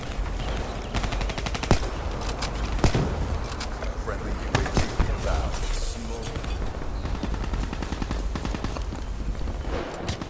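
Rapid gunfire from a competitive shooting video game, including shots fired through walls, crackles in quick bursts and sharp single reports throughout under a busy mix of game sounds.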